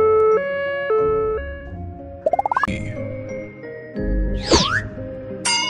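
A playful tune plays in a children's alphabet song, then a rising whoop and a quick wailing ambulance siren sweep sound briefly, bright and cartoonish, over the music.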